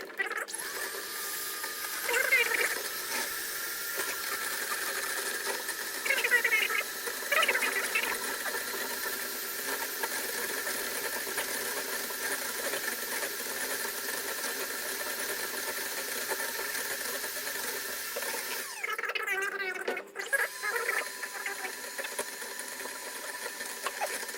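A kitchen mixer blends egg yolk, mustard paste and vinegar, humming as a steady, close motor whir with slight rattly vibration. It runs unbroken for the whole stretch apart from one brief dip near the end.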